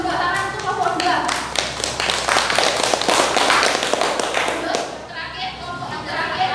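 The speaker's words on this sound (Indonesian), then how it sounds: "beri tepuk tangan untuk kelompok 2" Students at SMA Muhammadiyah 1 Kota Madiun clap for group 2 in a classroom, a loud, dense burst of close hand claps with voices and chatter mixed in, fading near the end.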